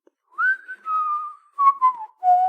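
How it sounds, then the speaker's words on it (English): Whistling drifting from one side of a corridor entrance: a clear, pitched human whistle in several held notes that glide slowly downward, fairly close and alone with no talk. "But alongside, you can also hear whistling"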